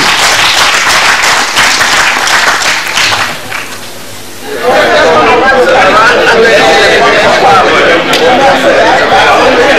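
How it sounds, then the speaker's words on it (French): Members of a Togolese municipal council applaud themselves after voting the 2023 budget, loud sustained clapping and chatter in a hall, briefly dipping before swelling again into a dense, continuous wash of hands and voices. "Je voudrais donc nous autoriser à nous applaudir pour tout ce que nous avons fait pour cette session."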